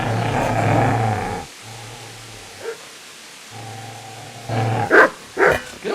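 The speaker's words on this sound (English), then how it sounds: "Get away, you mutt!" A dog in the video game Kingdom Come: Deliverance growls low and steadily, pausing between rumbles, then lets out a few sharp barks near the end.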